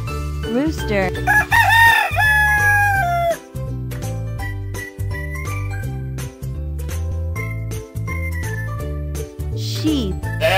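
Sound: rooster crowing

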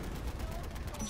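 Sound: gunfire from a video game shooting

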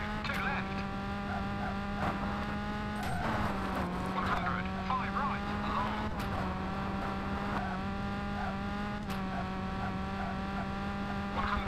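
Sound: squeaky car brakes in V-Rally 3 video game

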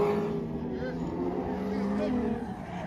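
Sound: LS-swapped Nissan 240 drift car engine

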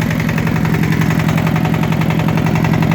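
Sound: motor tractor engine running with throttle

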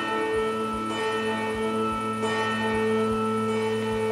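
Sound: bell ringing in the video game Medusa's Labyrinth

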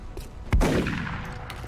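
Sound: gunshot in XCOM Long War video game

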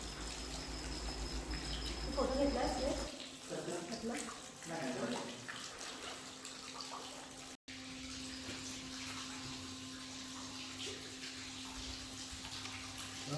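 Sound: water flowing from the Gaumukhi Ganga cow-mouth spring, Girnar

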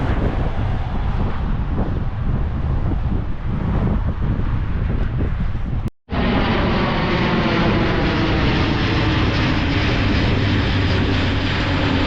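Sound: military aircraft flying overhead

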